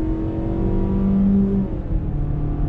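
Mazda CX-5 SUV engine pulling hard under acceleration, a loud, close, steady drone whose pitch climbs and then falls back briefly before holding again, with no talking over it.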